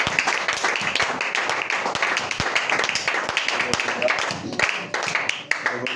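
A church congregation applauding God, a dense continuous wash of many hands clapping at close to moderate distance, steady throughout, with a voice speaking over it.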